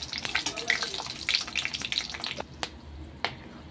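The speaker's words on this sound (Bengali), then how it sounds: "গাজর, কিশমিশ, কাঁচা লঙ্কা ভেজে নিয়েছি" Carrot, raisins and green chili frying in ghee with white oil, a steady crackling sizzle with sharp pops and occasional stirring clicks, close by and fading toward the end.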